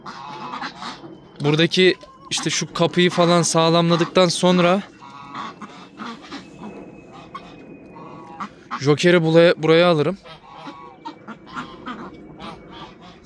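Ducks and geese quack and honk in scattered bursts close by, mixed with someone talking over the flock.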